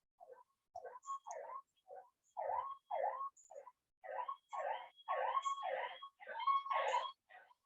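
An ambulance siren wails in rising and falling bursts, fairly faint and somewhat distant, with short gaps between the tones.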